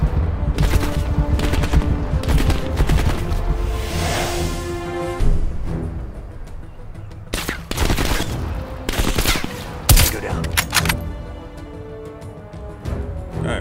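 Rapid automatic gunfire and bursts of shots from a Call of Duty Black Ops Cold War campaign firefight, loud and close, with repeated volleys and short pauses between them.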